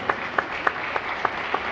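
A church congregation claps in a slow, sparse rhythm of about six distinct hand claps, evenly spaced and moderately close, over a steady room hum with no talking.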